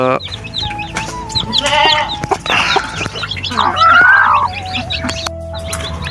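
A tiger breed hen clucks softly amid other farmyard bird calls on a farm, with a rooster-like call and scattered chirps of newly hatched chicks close by; no talking.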